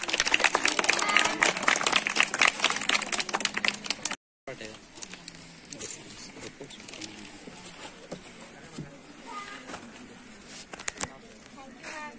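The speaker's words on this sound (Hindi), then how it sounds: "एक बार हम लोग की तरफ से तुम लोगों को तालियां" Children and adults at a children's birthday and Children's Day celebration break into group clapping, a dense burst of applause for about four seconds that cuts off abruptly, followed by quieter room sound with scattered voices.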